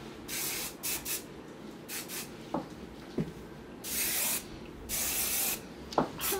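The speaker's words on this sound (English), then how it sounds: "I need to put some hairspray before I detangle them out." Hairspray hisses from a can onto hot-roller curls in several short bursts and longer sprays, close by and moderately loud, with quiet rustling between them.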